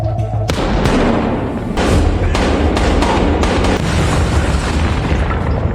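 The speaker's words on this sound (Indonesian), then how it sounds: "terjadi sebuah ledakan kecil yang membuat mereka terkapar untuk sementara waktu" A loud, rumbling blast of a small explosion in a war film erupts early, followed by dense crackling and booming debris noise that persists at high volume.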